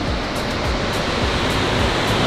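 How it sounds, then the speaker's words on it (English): A waterfall beside a hotel balcony at Lake Brienz, a constant loud rushing roar of falling water with no break, filling the whole soundscape. "We've got our own waterfall."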